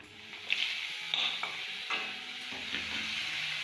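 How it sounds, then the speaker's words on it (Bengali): Chopped onion and green chilli hit hot oil and fry with a steady close sizzle, broken by a few clinks of a spoon stirring in the pan, no talking. "তেলের মধ্যে আমি পেঁয়াজ কুচানোগুলো দিয়ে দেবো, পেঁয়াজ কাঁচা লঙ্কা কুচানো"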